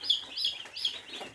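Baby chicks in a brooder peep in soft, high, repeated chirps, several small birds calling close but faint in short bursts.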